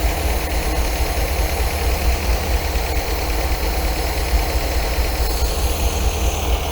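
An MGB engine idles evenly during carburettor tuning, a steady, close mechanical rumble with a constant low throb and no change in revs throughout.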